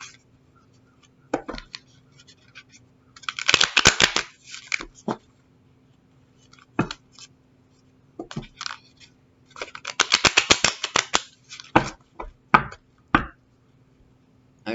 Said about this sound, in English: I feel I should shuffle one more time.